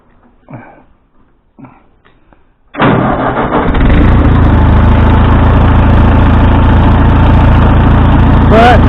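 A Ford engine, its intake valves recently readjusted and running on half choke, cranks and catches after a few seconds of quiet, then settles into a loud, steady idle with a rough low rumble close by.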